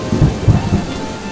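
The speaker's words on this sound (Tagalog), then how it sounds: "Di nagtagal, dumating na ang tag-ulan." Heavy rain with rumbling thunder, a short, loud burst of storm noise with low booms over the dense patter of falling rain.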